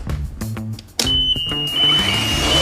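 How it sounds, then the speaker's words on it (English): A piercing high-pitched pool alarm tone cuts in after a second and keeps sounding loudly over clattering, rhythmic background noise. "Life Buoy has a very powerful alarm"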